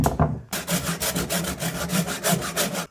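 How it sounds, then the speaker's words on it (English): A rasp filing wood on the underside of a piano: rapid, rhythmic back-and-forth rough scraping strokes, close and loud, about a dozen in quick succession after a few brief initial scrapes. "I think I might be able to use that rasp for the rest of it."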